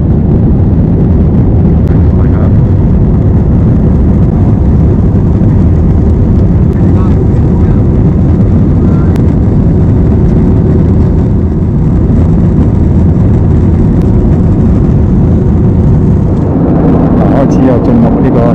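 Steady loud airliner cabin roar during descent toward landing on a flight to Laos, a dense continuous rumble that runs the whole time and swells briefly near the end.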